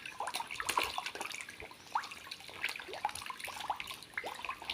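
Catfish feeding in a pond or tank, with repeated close splashes, slaps and gurgling water sounds scattered through the clip with no voices.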